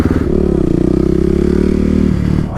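A motorbike engine revs loud and close in a sustained buzzing drone with a rapid pulsing rhythm, rising slightly before easing off at the end.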